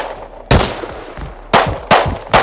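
Gunshots in the survival game Rust during a base fight among buildings, four sharp loud reports spaced unevenly with quieter ambient noise between.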